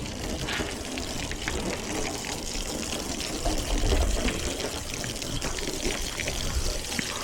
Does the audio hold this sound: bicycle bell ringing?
no